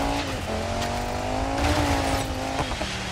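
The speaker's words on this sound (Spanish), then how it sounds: "Vamos a derrapar." A car drifting in the racing game DIRT 5 during a gymkhana run, its engine droning steadily with shifting pitch under continuous tire squeal, loud and close throughout.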